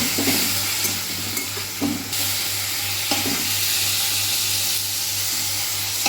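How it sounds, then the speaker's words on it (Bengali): Salt-and-turmeric-coated prawns frying in a pan for a Bengali pumpkin curry, a close steady sizzle with a low constant hum beneath and occasional stirring scrapes and bursts of spatter, no talking. "মাছগুলোকে ভেজে তুলে নিলাম।"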